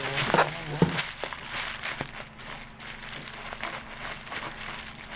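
A sealed plastic mail-order parcel is handled and opened. Quiet crinkling and crackling of the plastic comes with a few sharper rustles and taps near the start, and the rest is soft, intermittent handling noise.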